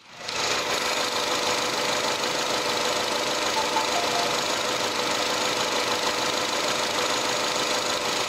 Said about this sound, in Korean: 엔진 소리 너무나 정숙한 사운드만 가지고 있다라고 보시면 될 것 같고요